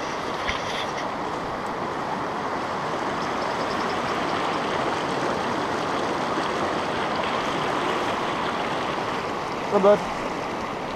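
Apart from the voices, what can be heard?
river water flowing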